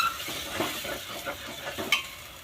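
Ground masala paste is stirred into hot oil in a pan while cooking an audumbar fig vegetable dish: a steady soft sizzle with scraping spoon strokes and a few light clinks, close and alone.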